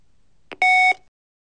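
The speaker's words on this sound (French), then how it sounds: "ne le relâchez qu'après le 2e signal" A TC:Bus door intercom system with a BVS25 control unit gives a short confirmation signal: a brief low click, then a clean steady electronic beep lasting about a third of a second, loud and isolated in a quiet room.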